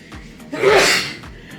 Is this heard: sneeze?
yes